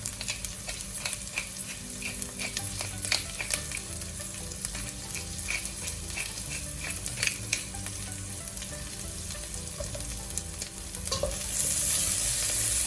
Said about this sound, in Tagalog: Haluin natin hanggang mag-caramelize ang ating onion.